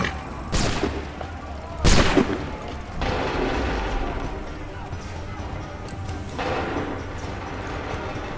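Gunfire in the video game Assassin's Creed III: several loud, separate gunshot blasts spaced a second or more apart, each ringing out over battle noise while voices talk in between.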